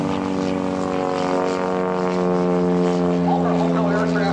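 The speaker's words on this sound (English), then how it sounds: "There it is, the Glacier Sportsman, flown by Tyler Jensen from Tempe" A Glacier Sportsman homebuilt propeller plane passes during an air show homebuilt showcase, its steady droning engine hum loud and continuous, swelling slightly as it nears, with a voice talking faintly underneath.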